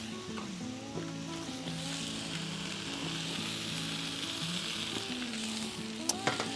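Shrimp sizzle and fry in garlic butter spread on a Blackstone griddle, a steady faint crackling hiss with light scraping and stirring near the end.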